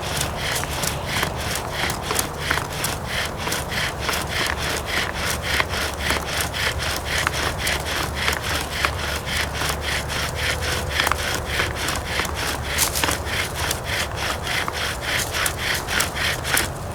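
Wooden bow drill spinning against a wooden fireboard to build an ember, a steady rapid back-and-forth rasping of wood on wood in long, smooth strokes, loud and close, with no talking.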